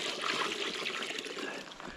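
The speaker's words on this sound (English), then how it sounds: "lift that up, tip that water out of there" Water splashes and trickles steadily for a couple of seconds as it is tipped out, a close, continuous pouring with no talking.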